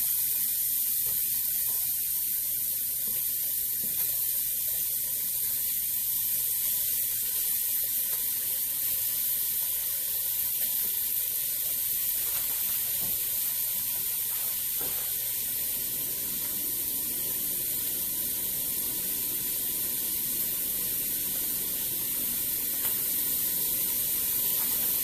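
Ground beef browning in a crock pot, a steady broad hiss and sizzle running unbroken and moderately loud, with occasional faint clicks and scrapes beneath it.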